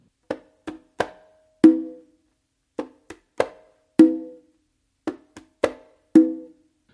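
Conga tumbao, played solo: sharp, close strikes in small clusters with a clear slight pause before each ringing open tone, repeated four times over several seconds.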